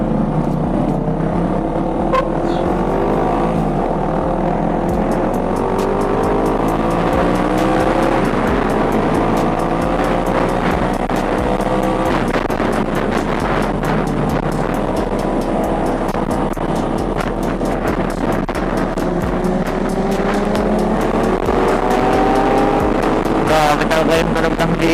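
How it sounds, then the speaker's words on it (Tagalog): A Kawasaki ZX6R motorcycle engine idling and revving at a Shell station forecourt: a loud, continuous roar with shifting rev pitch that lasts the whole stretch. "Yung tunog ng ZX6R guys."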